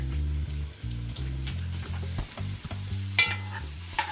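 Oregano and vegetables fry in a pan for lentil soup, a soft sizzle under rhythmic stirring and scraping, close and moderately quiet, with a few sharper clicks of the utensil.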